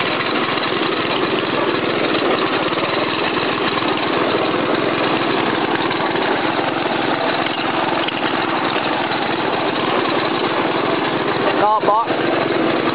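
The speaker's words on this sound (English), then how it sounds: "the engine ain't running quite right" John Deere 60 riding lawn mower engine running rough, a steady loud drone with an uneven, slightly labored tone throughout, near and continuous with no voices, and a brief clatter near the end.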